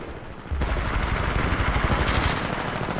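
Automatic weapon fire in the shooter game Titanfall 2 during a pilot-versus-pilot match, a loud sustained rattling burst kicking in after half a second and running to the end with no talk.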